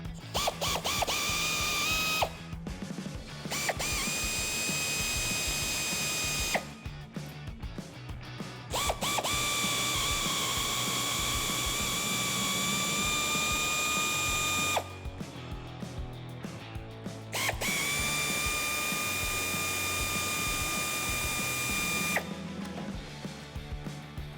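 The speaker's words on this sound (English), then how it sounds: "Now, I'm gonna bring out the air ratchet just to speed things up just a little bit more." Air ratchet spinning out throttle body screws on a 2005-2010 Mustang GT: several loud bursts of high-pitched pneumatic whirring and clatter, each a few seconds long, separated by short pauses of quieter shop noise.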